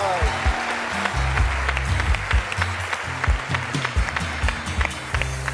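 Studio audience applause on a Turkish TV singing show as a guest is welcomed, steady clapping with music and heavy thumps underneath and voices talking over it.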